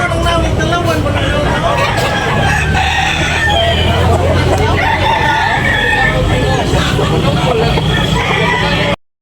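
A rooster crows amid a busy chicken market at Tabunok, Talisay, Cebu, its call rising over constant crowd babble, clucking fowl and traffic rumble, with a seller talking throughout.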